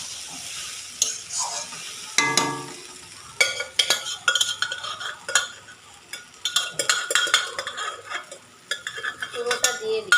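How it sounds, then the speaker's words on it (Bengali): A spoon stirring a spice mixture in a pan, close and busy, with repeated scraping and clinking strokes against the metal over a faint sizzle; the stirring comes in irregular bursts. "ভালো করে পুরোটা মশলাটা মাখিয়ে নিয়ে"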